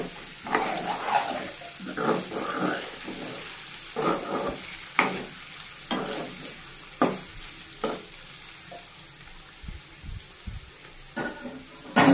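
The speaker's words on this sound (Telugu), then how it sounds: "ఇంకా 5 మినిట్స్ ఫ్రై అవ్వాలండి." Potatoes frying in a pan for a Telugu-style aloo fry, with steady sizzling broken by repeated scraping and stirring strokes, close and moderately loud, no talking.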